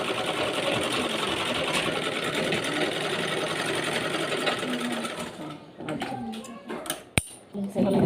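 Sewing machine stitching a cloth carry bag, a fast steady mechanical whir for several seconds that then stops, followed by a few handling clicks, while someone talks over it.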